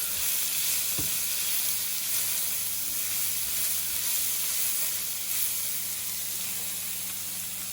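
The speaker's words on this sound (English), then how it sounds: "Saute our vegetables." Vegetables sautéing in a pan give a loud, dense, continuous sizzle and hiss close by, with a brief knock early on and no talk.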